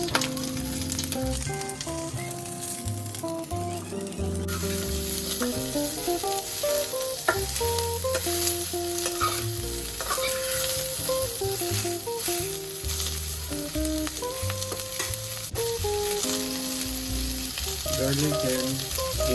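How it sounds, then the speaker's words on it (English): Onions fry in oil in a pan with a steady, continuous sizzle and occasional stirring, heard close up throughout with soft background music underneath. "Now let's add the onions."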